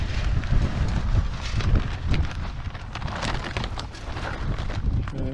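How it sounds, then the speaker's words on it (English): Gusty outdoor wind on an overcast, freezing day buffets the microphone with a steady, rumbling roar that swells and eases without pause. "it's 31 degrees, overcast and windy out here"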